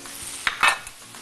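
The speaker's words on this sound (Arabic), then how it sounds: "انا عايز اشوح الخضار بتاع الطاجن الاول" Two spoonfuls of butter sizzle in a pan as onion and carrot for a tagine are sautéed, giving a steady close frying hiss broken by a few brief stirring scrapes.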